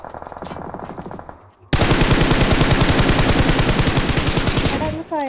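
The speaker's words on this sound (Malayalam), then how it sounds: "എടാ ഒന്ന് ഫയർ ചെയ്തേടാ." A battle royale shooter game has loud automatic gunfire. A shorter burst is followed by a brief pause, then a long, sustained rapid-fire stream with echoing shots that keeps going almost to the end.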